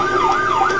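An ambulance siren wails close and loud, its pitch sweeping smoothly up and down in a continuous cycle as the vehicle speeds up, with no voices.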